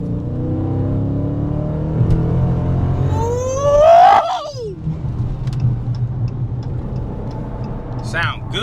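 Dodge Challenger Widebody Scat Pack accelerating hard onto a highway, a deep engine roar building under road noise while people talk and a loud whooshing sweep passes mid-way.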